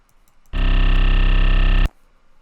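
A distorted Fire Drill style 808 bass made in the Serum synth, one loud sustained note held for about a second and a half and then cut off sharply, alone with no talking.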